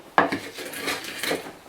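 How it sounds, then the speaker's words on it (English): Onions, chilies and basil are crushed together by hand for a coarse pesto, producing a few close, sharp knocks followed by short grinding scrapes and clinks. "so I'm going to very quickly crush them all together"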